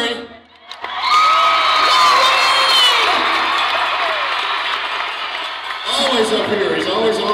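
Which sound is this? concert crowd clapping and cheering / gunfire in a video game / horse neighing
concert crowd clapping and cheering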